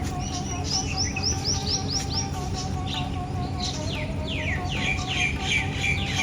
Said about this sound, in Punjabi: ਇੱਧਰ ਜੀ ਮੋਰ ਵਗੈਰਾ ਰੱਖੇ ਹੋਏ ਨੇ ਜੀ ਸਾਰੇ ਹੋਰ ਕਈ ਜਿਹੜੇ ਪੰਛੀ ਹੈਗੇ ਉਹ ਬੈਠੇ ਆ ਸਾਰੇ